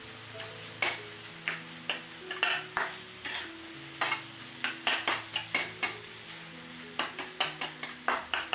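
Metal spatula repeatedly tapping and scraping in a pan while paneer is mashed for dhaba-style paneer bhurji, about twenty sharp clinks and scrapes in an uneven rhythm, close and clear over a low steady hum.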